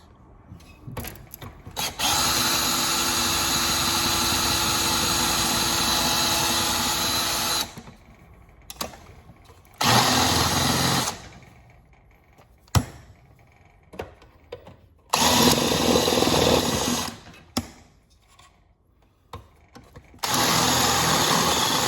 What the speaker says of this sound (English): get a drill bit, drill that rivet out